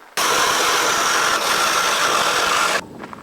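A power drill whines loudly and steadily for a few seconds as it bores a 1 3/4 inch hole into wood, then abruptly stops, leaving quiet.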